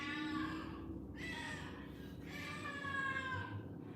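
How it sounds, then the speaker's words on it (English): A cat meows in a few drawn-out, wavering calls indoors, fairly close, with steady low background hum and no talking. "That cat is weird."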